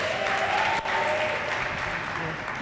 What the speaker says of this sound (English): Everybody, round of applause for Ms. Perry.